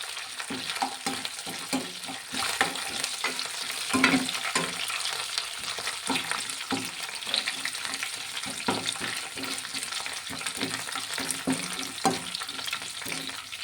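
Whole spices and curry leaves crackle and sizzle in hot oil for a mango pickle, with mustard, ginger and garlic frying in a busy, steady spatter punctuated by stirring clatter, close and fairly loud with no talking.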